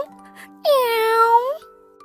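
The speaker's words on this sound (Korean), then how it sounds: "고양이는 말없이 고개를 끄덕이며 부드럽고 조용한 소리로 울었어요." A cat gives a single clear, drawn-out meow lasting under a second, heard as a sound effect in a bedtime telling of the Bremen Town Musicians, set over a faint steady hum.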